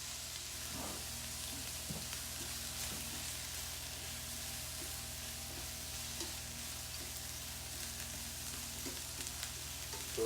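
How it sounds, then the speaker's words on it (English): Vegetables with garlic chives sizzle and fry steadily in a hot pan, giving a continuous crackling hiss with a few faint clicks and light stirring touches, close and even throughout, with no talking. "So the vegetables are cooking nicely."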